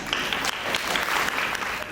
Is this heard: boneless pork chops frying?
no